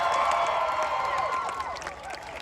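A crowd at a march applauds and cheers, a steady wash of clapping and voices from a distance that gradually fades over a couple of seconds.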